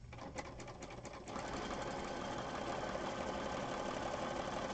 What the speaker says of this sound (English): I'm just doing a zigzag stitch all the way around